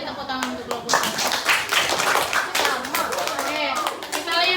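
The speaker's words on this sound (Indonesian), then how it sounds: "Beri tepuk tangan untuk kelompok 1." A classroom of children claps for a group that has just presented, a lively burst of hand clapping mixed with children's voices and chatter.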